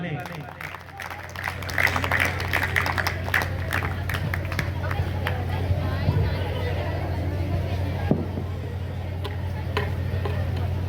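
A school parents-teachers meeting audience claps to welcome a teacher onto the stage, a sustained crowd applause over a steady low hum, with a voice speaking through parts of it.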